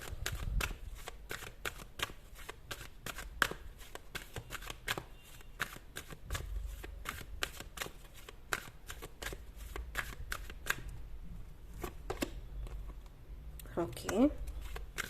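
A tarot card deck is shuffled by hand in a quick run of soft, crisp card slaps and riffles. The sound is close but quiet, with a voice murmuring now and then.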